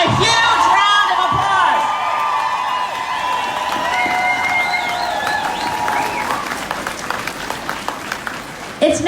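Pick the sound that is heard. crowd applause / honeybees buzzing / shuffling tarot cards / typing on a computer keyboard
crowd applause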